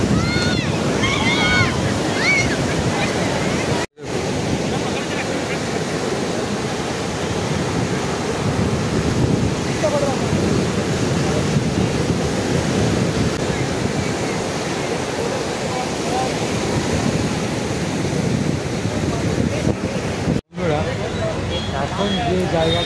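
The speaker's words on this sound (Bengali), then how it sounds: "প্রচণ্ড গতিবেগে সেই ঢেউয়ের শব্দ আমরা কিন্তু শুনতে পাচ্ছি" Ocean waves crash steadily onto the shore at Bandstand, Mumbai, a loud continuous surf roar with wind buffeting the microphone, broken by two brief cuts.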